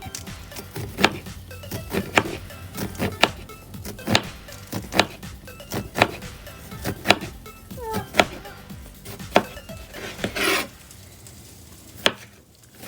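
A knife chops an onion on a cutting board with a steady run of crisp, close taps, about one per second, ending in a brief scraping sweep and one final knock.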